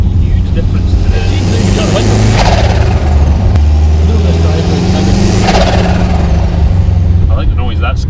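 A Subaru WRX engine rumbles close by, dump valve removed, with a turbo's fluttering chatter rising in two bursts as people talk over it.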